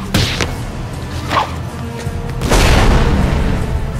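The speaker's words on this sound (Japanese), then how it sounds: "地球内部爆発か。" Booming explosion effects from a Japanese tokusatsu superhero film, a series of heavy thuds and blasts building into a loud, rumbling roar that sustains to the end.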